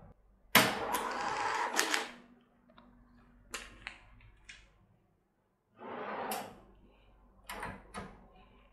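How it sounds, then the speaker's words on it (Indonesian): An automatic cash drawer on a restaurant cashier system pops open after a cash payment, with a sharp mechanical clack and a rattling slide, followed by a few softer clicks and a second quieter rattle. "pintu cash drawer akan secara otomatis terbuka."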